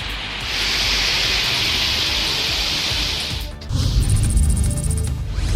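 Heavy monsoon-style downpour over towns in Tamil Nadu's Kanchipuram area, such as Sriperumbudur and Oragadam: a steady, dense hiss of rain that shifts into a heavier, rumbling roar partway through, with no voices.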